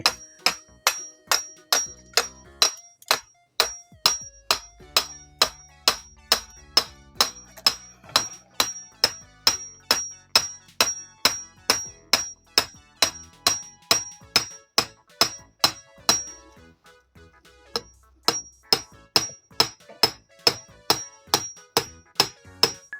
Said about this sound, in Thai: ตอกลงไปเลยนะครับนี่ฝังลงดิน ตอกลงดินไปเลยนะ